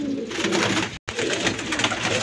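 Teddy flying pigeons give soft, low cooing calls, close and fairly quiet, in a short run broken by a brief dropout.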